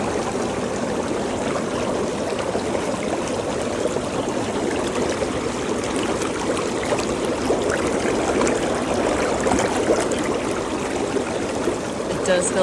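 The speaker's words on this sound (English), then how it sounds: "So let's try bubbles again and see if they work." A Relxtime inflatable hot tub runs its bubble jets in a steady, dense rushing gurgle of churning water, continuous and close throughout.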